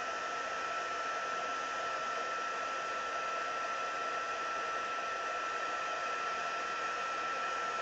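A handheld heat tool warms up for soft pastel work, giving a steady, fairly loud blowing hum with a constant whine that never changes over several seconds, with no voices.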